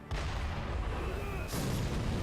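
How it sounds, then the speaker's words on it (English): A cannon fires in Sekiro: Shadows Die Twice: a heavy boom right at the start and another about a second and a half later, both loud over continuous game noise. "hearing a cannon fire at you and only having a second to react"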